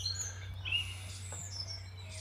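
Birds chirp and sing in brief high calls in an English country garden at Pashley Manor in East Sussex, faint over a steady low hum.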